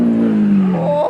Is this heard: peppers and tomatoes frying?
no